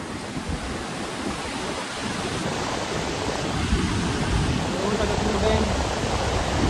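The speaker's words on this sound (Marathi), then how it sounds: "पाणी सोडलेलं आहे पण कमी सोडलं आहे यावेळेस पाणी." Water released from Chaskaman dam during the monsoon pours down in a steady, broad rushing roar that fills the whole stretch, growing slightly louder toward the end.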